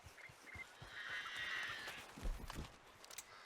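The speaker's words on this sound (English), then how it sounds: "Oh yeah, those are horses." Horses in a video game make a faint, soft clip-clop of hooves with a brief whinny-like tone over low game ambience.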